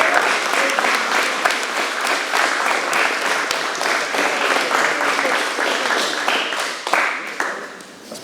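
A crowd claps in dense, sustained applause at an anniversary seminar and belt promotion ceremony. The clapping stays steady and loud, with a few voices mixed in, then thins slightly near the end.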